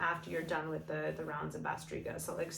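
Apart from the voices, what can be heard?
No everyday noise stands out behind the speech.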